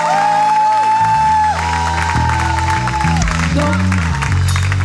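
Loud applause and cheering fill a church anniversary talk show, layered with sustained music and voices over the crowd noise.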